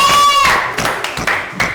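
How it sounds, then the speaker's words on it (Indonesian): Students clapping together for a moment in an Indonesian classroom lesson once their work is collected, a few sharp claps following a ringing tone, fairly close and brief. "Kita kasih tepuk tangan untuk semuanya."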